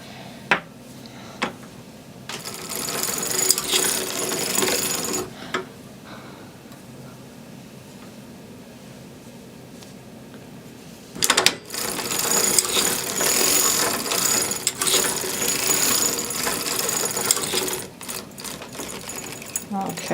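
A hand-cranked knitting machine knits a bonnet in two long rattling, clicking runs separated by a quieter pause, close up, with a person talking over it.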